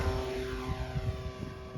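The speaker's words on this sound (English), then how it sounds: "This plane takes off so nicely." A radio-controlled STS Apprentice model airplane takes off in wind, its propeller motor a steady high whine over gusty low rumble, loud and close with no talk.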